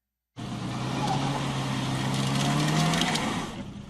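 A car engine revs hard as the driver guns the gas, a rising, sustained roar starting abruptly and holding for a few seconds before easing off, with no talking.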